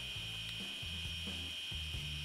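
A surgical saw runs in the Surgeon Simulator video game. It gives a quiet, rhythmic grinding in three short pulses over a constant high electronic whine.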